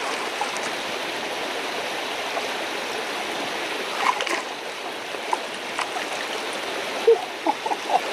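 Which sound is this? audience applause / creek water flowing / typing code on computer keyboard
creek water flowing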